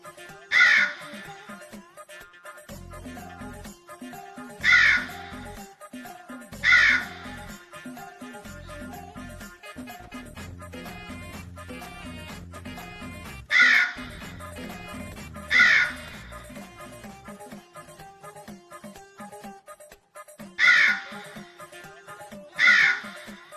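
A crow cawing in the video game GTA 5, loud repeated harsh caws coming in spaced bursts over a low droning game background.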